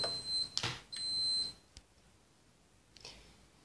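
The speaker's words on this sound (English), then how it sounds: "as you heard the beeping, that was my dishwasher" Two electronic beeps, a short one and a longer held tone, sound from a nearby dishwasher, with faint clatter afterward; no talking.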